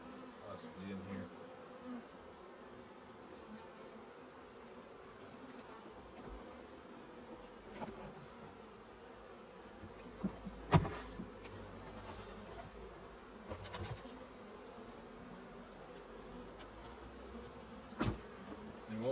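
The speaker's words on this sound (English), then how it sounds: "all these bees flying around here" Honeybees buzz steadily around open hive boxes during a hive check. The drone is dense and continuous, with a few bees passing close and occasional knocks and clicks from handling the boxes.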